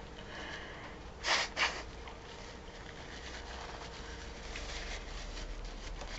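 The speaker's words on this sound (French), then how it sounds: "J'ai horreur de renifler, mais..." A person sniffs twice in quick succession, close and fairly sharp, against a quiet room with faint rustling before and after.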